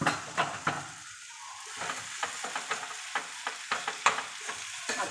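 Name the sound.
chopped tomatoes added to sizzling vegetable curry, stirred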